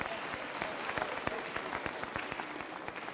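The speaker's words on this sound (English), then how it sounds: "Ntuli a big round of applause?" A graduation ceremony audience gives a round of applause, a dense crackle of many hands clapping at a steady level throughout, with distinct individual claps popping out of the crowd texture.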